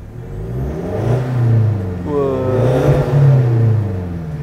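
A 2016 Mitsubishi Pajero Sport Dakar diesel engine revs up twice with a rising then falling whine, loud and close, heard from inside the SUV with no talking.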